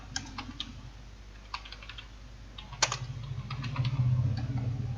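Typing on a computer keyboard, with light, irregular key clicks in short bursts, close by over a low steady hum that swells slightly toward the end.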